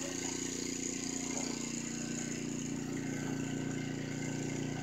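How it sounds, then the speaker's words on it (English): A generator at an off-grid homestead runs with a steady, unbroken mechanical hum, faint and distant, with no voices over it. "I'm gonna go shut that generator off"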